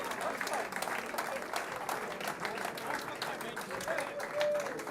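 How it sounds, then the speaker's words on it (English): An audience at a sports awards ceremony applauds a defensive rookie, a steady wash of crowd clapping heard at moderate distance, with a voice talking over it. "Another round of applause for Arthur King"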